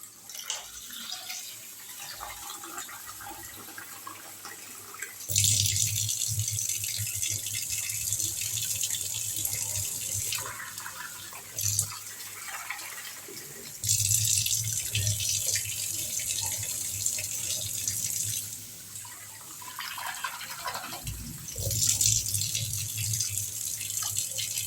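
Running tap water splashes over periwinkle snails being washed in a kitchen sink, in bursts of gushing flow separated by quieter pauses, with faint handling sounds in between.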